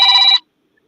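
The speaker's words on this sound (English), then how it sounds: "That's somebody ringing a bell" A brief electronic bell-like ring sounds loudly for a fraction of a second, then cuts off abruptly into silence.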